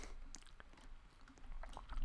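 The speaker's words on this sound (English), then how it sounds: "I'm basically, like, chewing gum right now." Gum being chewed close to the mic in quick, wet, irregular smacks and squishes, fairly faint over a low background hum, with no talking.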